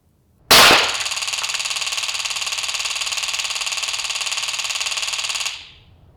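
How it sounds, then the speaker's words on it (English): A police Taser fires two probes into a metal target, starting with a sharp crack and then a loud, steady electrical buzzing that lasts about five seconds before cutting off, with no voices. "it emits 2 probes that'll hit the metal target, and you'll hear the electrical charge"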